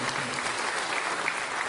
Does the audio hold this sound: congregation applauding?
yes